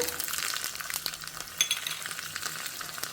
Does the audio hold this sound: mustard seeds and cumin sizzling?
yes